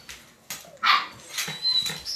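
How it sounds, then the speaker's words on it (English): Puppies barking and yipping in short, high-pitched bursts, several separate yaps spread across the moment, fairly close and loud with slight whimpering between them. "But barking puppies are happy puppies."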